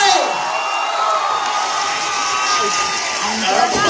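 A loud crowd roars and cheers continuously, with whoops and shouting voices blending into a dense, sustained wall of noise.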